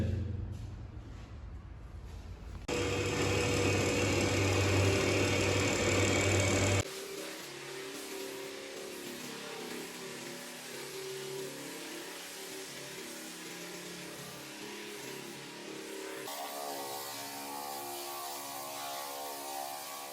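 A loud floor sanding machine whirs and grinds across a solid wood parquet floor, its pitch and intensity shifting in distinct stretches, with no voices.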